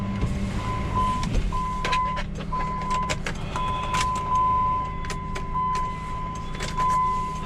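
A key turns in the ignition of a Ram 1500 pickup with a broken tie rod, bringing small key clicks and a repeating electronic warning chime in short steady beeps against a quiet outdoor background.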